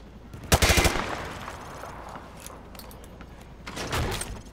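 Gunfire through light cover in Modern Warfare 2: a loud, close burst of rapid automatic shots, then quieter mechanical clatter, and a second, fainter burst of fire near the end.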